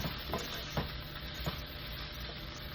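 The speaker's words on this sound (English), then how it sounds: "So we're going to toast the seasoning just a little bit." A steady, quiet sizzle of garlic powder seasoning toasting in a pan, with a few soft stirring scrapes spaced through it.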